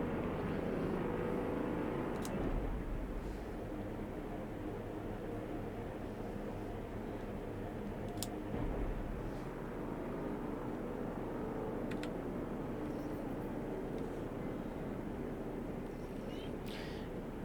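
A spaceship engine accelerating steadily in the Star Citizen video game, a continuous loud broadband roar that holds level throughout with a few brief higher-pitched flickers on top.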